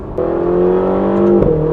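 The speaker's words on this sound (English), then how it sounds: "Still sounds pretty good, and maybe you can hear that pop on the upshift." Ferrari California T engine revving hard through a gear, a loud steady rising drone that breaks at the upshift with a brief crackle before the tone settles lower, heard from inside the car.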